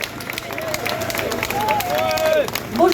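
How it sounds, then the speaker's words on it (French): A crowd at a Patriotes demonstration near the Senate applauds Daniel Philippon, with sustained clapping and cheering, shrill whistles and shouted voices rising over the din and growing louder toward the end. "Bravo à Daniel Philippon, qu'on peut applaudir très fort."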